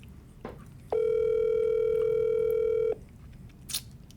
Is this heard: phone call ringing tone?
yes